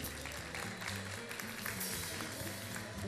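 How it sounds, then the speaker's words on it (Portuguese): Faint, steady audience applause during a Brazilian nostalgia variety program, continuous clapping heard at a distance beneath background music. "Vamos aplaudir."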